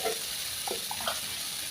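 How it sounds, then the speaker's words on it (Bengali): Water poured into bitter gourd curry frying in a pan gives a short hissing sizzle with a few bubbling pops, close and moderately loud. "এবার জল দিয়ে দেব।"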